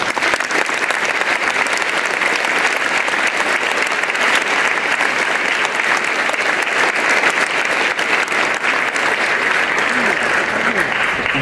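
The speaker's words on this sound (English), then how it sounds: "It is my honor to lead you in a round of applause and appreciation for all veteran servicemen and women who could not be in attendance today." Sustained, loud applause from a school assembly audience honoring veteran servicemen and women, a dense, even roar of clapping from many hands that continues unbroken throughout.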